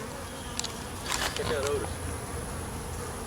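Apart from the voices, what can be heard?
bees buzzing in a beehive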